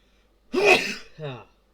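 A single close, sharp sneeze bursts out, followed by a short voiced exhale or sniff.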